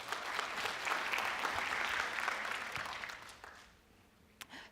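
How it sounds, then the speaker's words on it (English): Conference audience at a finance event applauding the panelists, a steady wash of clapping that fades after a few seconds, followed by a couple of isolated claps. "A round of applause for my panelists, please."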